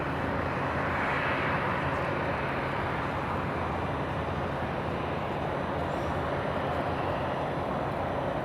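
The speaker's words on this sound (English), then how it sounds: "All right, the A330neo on the move." An Airbus A330neo airliner taxis at LAX, its jet engines giving a steady, loud broadband roar that holds constant throughout, with no voices.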